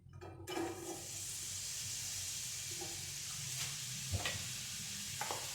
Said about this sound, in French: je l'ai mis dans une poêle et je vais mettre les oignons